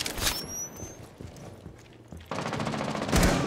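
Bursts of gunfire during a Rainbow Six Siege match: rapid cracking shots at the start, a quieter stretch, then a dense volley near the end, with little talk over it.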